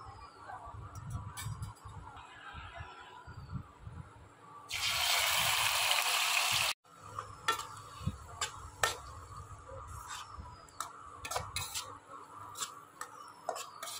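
A spice mixture being stirred in a pan for a spicy rice accompaniment, giving soft scraping and sizzling over steady cooking noise, with a harsh burst of louder sizzle midway.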